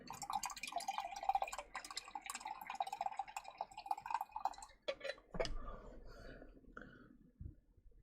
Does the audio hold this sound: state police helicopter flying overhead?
no